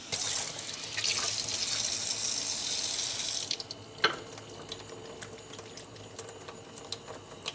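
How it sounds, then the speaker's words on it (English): A sink tap runs steadily as hands are washed under the stream for a few seconds, then the flow cuts off, leaving quieter room sounds and a single clack. "We'll do a quick little hand wash."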